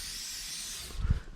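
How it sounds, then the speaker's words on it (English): WD-40 sprayed onto garage door hinges gives a steady, close hiss lasting about a second, followed by a brief low thump at the end. "spray the hinges"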